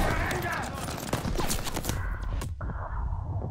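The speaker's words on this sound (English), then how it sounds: "Why am I getting riddled with bullets right now, though?" Heavy battlefield gunfire in the video game Call of Duty Vanguard: dense, overlapping bursts of shots near and far, with someone talking over the fighting.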